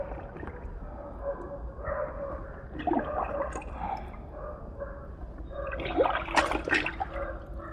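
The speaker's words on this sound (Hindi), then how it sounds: "अब हम तीनों को पानी के अंदर डालते हैं" Dirty cloth dunked into a bucket of water, giving soft sloshing and splashing bursts that swell twice, close by, over a low steady background.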